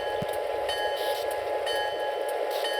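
Steady rumbling run of a custom-built South Pacific train in the Train Simulator 2014 video game, a continuous engine and rail drone with faint rhythmic clicks and no talk.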